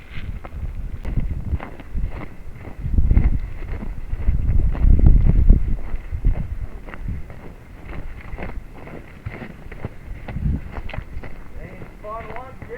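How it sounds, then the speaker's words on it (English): Heavy wind gusts buffet the microphone beside the Sheboygan River in December, a loud rumbling roar that swells and fades in waves. "The wind is picking up."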